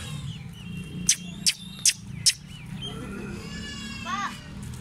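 A black male goat bleats in a livestock setting, sharp loud bursts repeating about four times in quick succession, with other animal cries and children's voices nearby.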